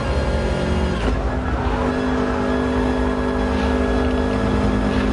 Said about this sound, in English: I've basically lifted off, knocked it down a gear, turned in early, and then been able to get right back on that power.